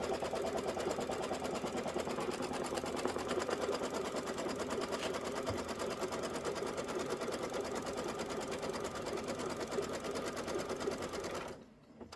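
A Kimberbell sewing machine stitches a grass strip on a quilt with a steady, fast mechanical whir that holds close and even for about eleven seconds before stopping abruptly.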